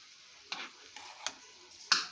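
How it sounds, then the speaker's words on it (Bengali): A spatula stirs bitter gourd and potato frying in oil with onion and green chili, giving a few faint, sharp scraping clicks against the pan over a soft, low sizzle, with no talking. "তারপরে করলা, আলু একসাথে দিয়ে এখন আমি এটা নাড়াচাড়া করছি"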